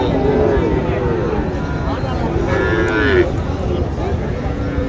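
A cow lows in a long, loud, close moo at a busy cattle market, with people talking and crowd noise all around.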